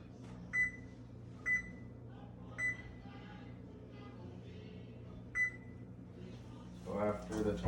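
An oven timer chirps four short, crisp beeps at uneven intervals as it is set. They sit over a steady kitchen hum, and a rustling clatter rises near the end.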